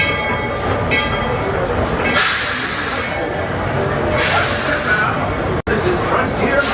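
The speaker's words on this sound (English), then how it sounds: "We got the Walt Disney World Railroad coming into the station." A Walt Disney World Railroad steam train pulls into a theme park station, its loud, continuous rumble and hiss carrying bursts of steam noise and a sharp break near the end, with crowd voices underneath.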